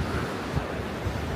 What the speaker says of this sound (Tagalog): Malakas ang alon guys.